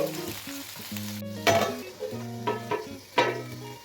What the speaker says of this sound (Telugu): ఇప్పుడు ఇందులో కట్ చేసుకున్న వంకాయలను వేసుకొని ఫ్లేమ్లో వీటిని మంచిగా రోస్ట్ చేసుకోవాలి